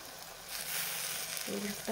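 Egg bhurji sizzles in oil in a pan, a steady, close frying hiss with a faint scrape near the end.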